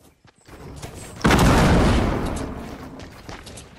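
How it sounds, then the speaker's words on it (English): Explosion in the video game Fortnite: one loud, sudden blast that starts sharply and fades into a long rumbling decay, after a few faint pops and clicks. "Is that you exploding?"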